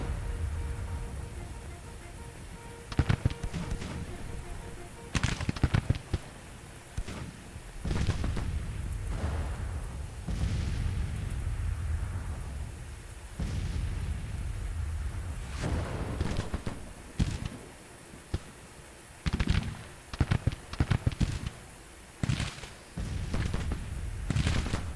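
Cannon and rifle fire from a Civil War battle video game, Union side in summer 1861 with Bragg's corps, sounding as repeated sharp booming shots in irregular bursts over a steady low rumble.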